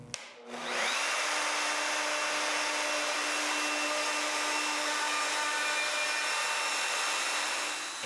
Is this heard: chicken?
no